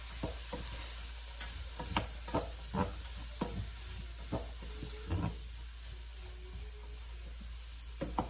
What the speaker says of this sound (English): I'll stir it all together nicely.